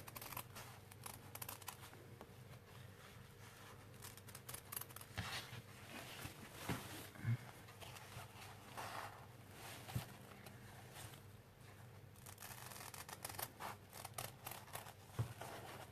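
Scissors snipping round flower shapes from paper for a shabby chic craft, a long run of small close cuts and crisp clicks with rustling paper between them, no speech.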